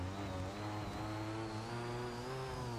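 A car engine in the BeamNG driving game revs steadily and loudly, a continuous droning motor tone with shifting pitch and no pauses or talk over it.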